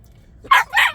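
A dog gives two quick, fairly loud barks close by, one right after the other.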